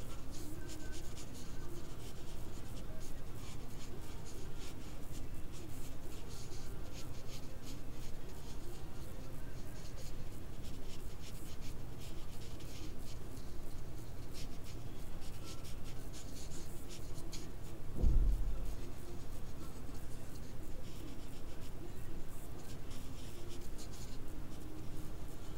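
A pencil sketches loose contour lines on paper, a soft continuous scratching and rubbing that runs steadily throughout at low level, with one brief louder bump near the end.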